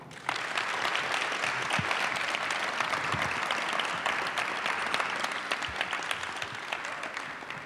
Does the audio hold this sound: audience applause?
yes